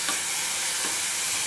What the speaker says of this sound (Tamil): அது போகிறதுக்கு தேங்காய் எண்ணெயில் தாளிச்சுட்டு நல்லா வதக்குங்கோ